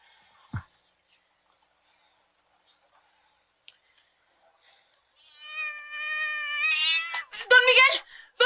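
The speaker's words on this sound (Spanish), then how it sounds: "Sí, es un gato, hombre." Cat meowing close by: a single thump, then after a quiet stretch a long, rising, harmonic meow that breaks into several short, loud cries at the end, with no talking.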